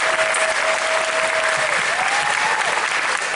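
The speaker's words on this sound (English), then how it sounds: "big round of applause for everybody" A crowd applauds the cast members and staff of the 2016 Epcot International Food & Wine Festival, a steady dense wash of clapping that holds at full strength from start to end, with a brief thin tone sliding over it.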